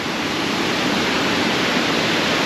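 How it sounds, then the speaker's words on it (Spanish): A steady, full rushing roar of falling water at La Llovizna waterfall, Venezuela, loud and unbroken throughout, with no voices. "Miren esa cascada preciosísima, cascada La Llovizna."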